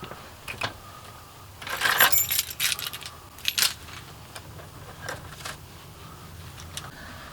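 Keys jangling, a few scattered metallic jingles and clinks in short bursts, loudest in a cluster early on and again midway, fairly close with quiet handling noise between.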